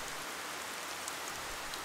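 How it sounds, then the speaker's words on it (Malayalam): Steady rain pours down during a flood, a dense, even hiss of drops hitting surfaces that holds at a constant level for the whole stretch with no voices over it. "അപ്പോഴും മഴ പെയ്തുകൊണ്ടേയിരുന്നു."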